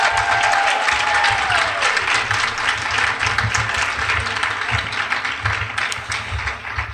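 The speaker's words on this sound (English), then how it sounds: "So please join me in giving them a round of applause." Audience applause for an ROTC color guard at a university event, a steady, dense round of clapping that fills the hall for several seconds, fairly loud and continuous, without talk over it.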